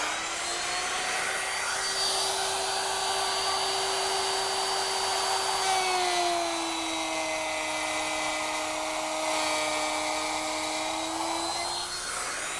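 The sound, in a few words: router with 1/2 inch bit cutting a groove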